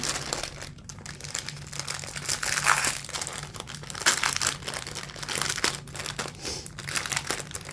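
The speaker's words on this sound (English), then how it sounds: "just go ahead and get everything out of these bags so we can get rid of the crinkling" Plastic bags being emptied of their contents, giving continuous close, loud crinkling and rustling with constant handling and no pauses.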